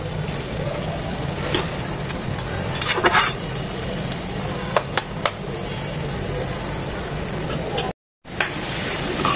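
Bathua greens frying in a pan, a steady low sizzle with occasional scraping stirs and a short dropout near the end.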